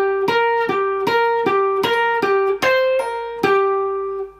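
Electric guitar playing the third bar of a 12-bar blues solo in C, with pull-offs: a steady run of about nine clean, evenly spaced picked notes, close and moderately loud, each ringing briefly with no talking.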